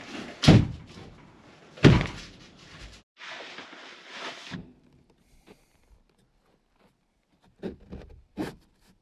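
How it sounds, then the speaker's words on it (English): A wooden door in a newly framed solar kiln building of 2x4 studs and OSB sheathing swings and shuts with two loud close thumps, followed by rattling and a few lighter knocks and taps, no talking. "Door's closed."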